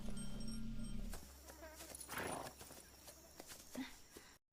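Horse hooves clip-clop faintly in a kungfu film scene where a person is carried on horseback, with a low rumble, some rustling and a brief burst of noise mixed in.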